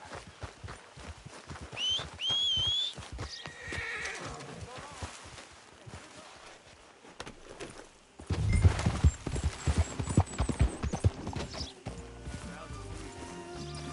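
A horse in the video game Red Dead Redemption 2 whinnies near the start, followed by steady clip-clopping hooves and rustling movement, with louder busier hoofbeats and clatter in the second half, in the town of Rhodes.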